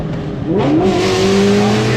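A Whipple-supercharged Ford Mustang GT350 engine blips loudly on a downshift, its revs sweeping sharply upward and holding a strong, close roar while the car is driven on a road, with no talk over it.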